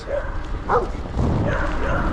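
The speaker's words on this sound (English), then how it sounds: "I started hearing like all the dogs in the area barking, including these guys" Dogs bark and yip a short way off along a gravel road, a few short overlapping calls over a low outdoor rumble.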